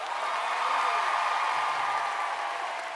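Concert crowd applauding at Sala Palatului, a dense continuous wash of clapping that stays steady and loud throughout.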